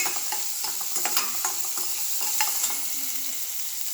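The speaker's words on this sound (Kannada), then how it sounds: "ನೋಡಿ, ಫ್ರೈ ಆಗ್ತಾಯಿದೆ" Chopped ridge gourd fries in an oiled pan with a continuous close hiss and sizzle, punctuated by light clicks and scrapes from stirring.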